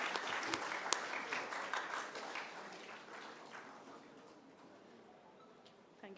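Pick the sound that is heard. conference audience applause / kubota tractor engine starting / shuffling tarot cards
conference audience applause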